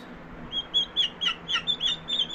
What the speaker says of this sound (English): I interrupt the video for some turkey chicks.